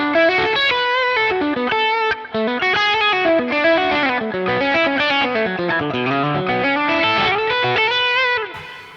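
A Warm Audio Bluesbreaker clone overdrive pedal set to its distortion clipping mode shapes a continuous electric guitar passage of sustained, harmonically rich chords and melodic lines, steady and loud, with no talking.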